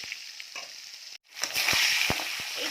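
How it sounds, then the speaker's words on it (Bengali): Five duck eggs hit hot mustard oil in a kadai, a soft background sizzle swelling after a brief pause into loud, crackling frying with sharp pops and spits, close up and without talk. "এই যে এখানে 5টা হাঁসের ডিম রয়েছে,"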